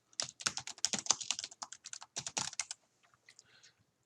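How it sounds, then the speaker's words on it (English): Rapid, irregular key clicks as someone types a name on a computer keyboard in office accounting software, close and crisp, in a dense burst that thins to a few scattered taps. "Just type in the name"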